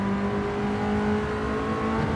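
A BMW M3 with a rough, vibrating inline-four engine drones steadily in Gran Turismo 7, a sustained tonal hum with a coarse, buzzing texture and no voices over it.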